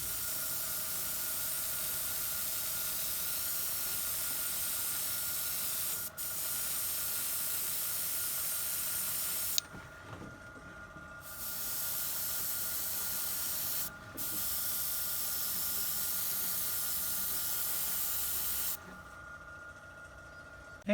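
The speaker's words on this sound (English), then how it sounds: "I'm going to take my airbrush with a little bit of Tamiya's olive green color" An airbrush sprays Tamiya olive green paint onto foliage for a 1/35 scale armor model. The steady, quiet hiss comes in long bursts broken by a few short pauses, with no talk.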